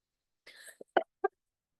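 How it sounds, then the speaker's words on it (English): A short burst of breathy noise followed by two sharp, separate coughs, close and clear in an otherwise quiet room. "my throat is acting up and that's I'm coughing"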